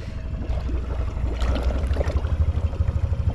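A 2018 Honda Foreman ATV idles while submerged in a snorkel pond, its engine giving a low, rapid throbbing pulse mixed with bubbling and gurgling water, close and steady.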